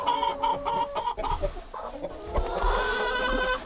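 Hens cluck in a farm henhouse holding around fifty birds, a busy overlapping chorus of calls close by, with no speech over it.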